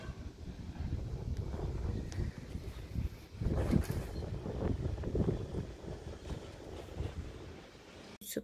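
Wind blows steadily outdoors the morning after Typhoon Maysak, a continuous broadband rush with gusty swells and buffeting against the microphone, no voices.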